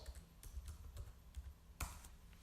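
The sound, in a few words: typing a command on a computer keyboard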